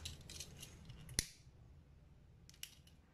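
Scissors snip through cord while making a handmade anklet, one crisp, close cut followed a moment later by a fainter second snip, in a quiet room without speech.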